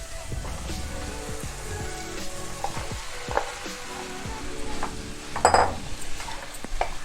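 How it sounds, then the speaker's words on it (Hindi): Potatoes hit hot, already-fried masala for a spicy samosa filling, setting off busy close sizzling mixed with spoon scrapes and clinks against the pan, rising in a louder burst near the end. "मसाला हमारी फ्राई हो चुकी है। अब इसमें मैं आलू डाल दूँगी।"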